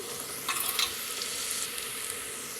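Ginger and garlic frying in a pan, a steady close sizzle with a few louder stirring scrapes early on, no voices.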